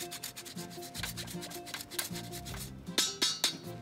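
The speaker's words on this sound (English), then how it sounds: "We're gonna grate some parmigiano," Parmigiano-Reggiano cheese is grated in a kitchen, a quick run of soft rasping strokes at a steady rhythm, close and fairly quiet, ending in a few sharper scrapes.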